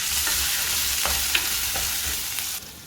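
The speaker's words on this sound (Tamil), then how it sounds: "இப்போ கடுகு பொரிஞ்சதுக்கு பிறகு இஞ்சி பூண்டு பேஸ்ட்டை போட்டுக்கோங்க" Ginger-garlic paste and popped mustard seeds frying in a pan with a steady, close sizzle and occasional stirring scrapes, no voices.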